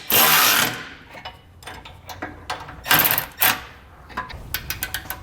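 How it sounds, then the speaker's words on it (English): A wrench and socket snugging down the bolts of a Curt trailer hitch receiver on a 2022 Ford Bronco, with bursts of ratcheting clicks and metallic scrapes close by, fast runs of short clicks between pauses. "we're going to come back with our wrench and our socket and snug everything down"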